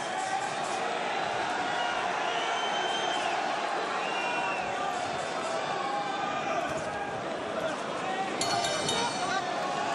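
An arena crowd at a Bellator MMA 280 prelim fight keeps up a dense, continuous roar of cheering as the bout nears its end, with a commentator talking over it throughout.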